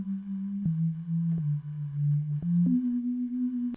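Korg OpSix synthesizer playing a soft, smooth low tone with detuned unison voices, several held notes stepping between pitches with faint clicks at each change, quiet and alone.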